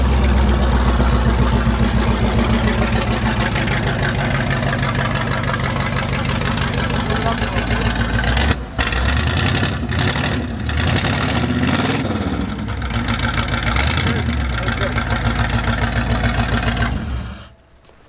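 A 1915 Ford T-bucket hot rod with a Pontiac GTO 389 engine and three deuce carburetors idles with a loud, steady, lumpy rumble and some rough knocking. Engine noise stays close, then cuts off near the end.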